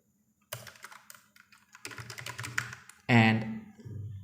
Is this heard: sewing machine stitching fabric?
no